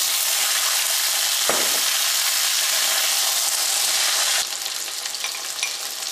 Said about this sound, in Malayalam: ആദ്യം നമുക്ക് പൊട്ടറ്റോ ഒന്ന് വഴറ്റിയെടുക്കാം